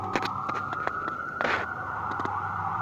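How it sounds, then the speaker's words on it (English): Emergency vehicle sirens start up close by, a steady wailing tone with a brief louder burst midway, over a continuous background hum and no talking. "Sirens starting right next to it."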